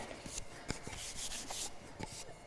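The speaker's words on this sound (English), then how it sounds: "so give that a little sand" A small wooden piece for a latch box is hand-sanded, giving a run of soft, close scratchy rubbing strokes in an irregular rhythm.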